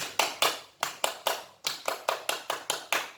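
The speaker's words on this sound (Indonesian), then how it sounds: "Ice breakingnya masih sama seperti yang kemarin, yaitu tepuk semangat." Hand claps ring out in a rhythmic clapping pattern for the 'tepuk semangat' chant at a home-schooling lesson, crisp and close, grouped in short bursts with brief pauses between them.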